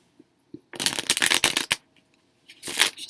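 Tarot cards are shuffled up close in a quick riffling burst lasting about a second, followed by a brief pause and a shorter second shuffle.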